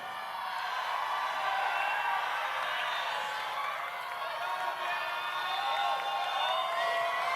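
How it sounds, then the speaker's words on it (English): Large audience at a Miss Universe preliminary competition cheering and screaming in a big hall, a dense sustained roar of many voices that holds steady throughout. "this is great that you are cheering in here"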